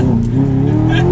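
A manual Audi R8 with a Pedal Commander lurches through a bad gear shift, its engine droning loud and close with a steady strained tone throughout, no clear voice over it.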